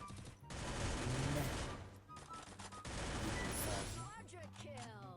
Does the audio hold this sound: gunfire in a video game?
yes